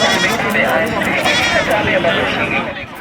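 Sheep bleat in a wavering chorus amid a busy, noisy background, with voices mixed in, at a Maasai livestock enclosure.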